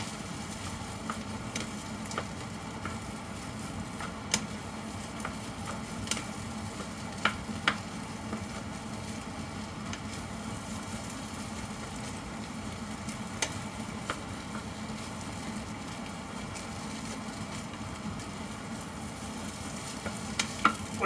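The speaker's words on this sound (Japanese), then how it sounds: "そのさっき炒めたやつと混ぜ混ぜしていきます" Kimchi fried rice stir-fried and mixed in a pan, a steady soft sizzle with occasional sharp clicks and scrapes of the utensil against the pan, close and continuous.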